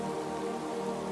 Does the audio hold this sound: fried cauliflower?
no